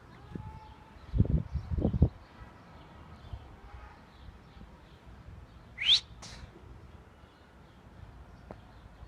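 Young game birds, recently released, give a brief, sharp chirping call against a quiet outdoor background, preceded by a couple of low thumps.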